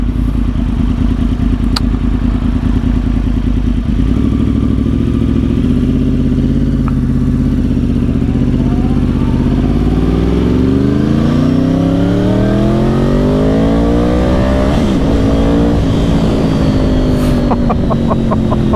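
2010 Yamaha R1 1000cc motorcycle engine idling roughly, then revving and accelerating hard through rising gear pulls, loud and close with a brief shift dip before climbing again.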